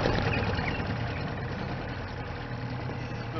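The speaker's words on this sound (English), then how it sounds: "Little motor, this one, very simple, 2-stroke." A small, simple two-stroke outboard motor on an old boat idles with a steady, dense, close rumbling drone that holds throughout.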